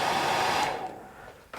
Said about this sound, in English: A wee blow with the hairdryer.